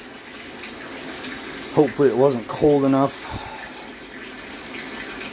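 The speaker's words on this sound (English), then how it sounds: "let the water run for a few minutes" Water running from a tap at a deer camp after a freezing night, a steady hiss of flow throughout, with someone speaking over it partway through.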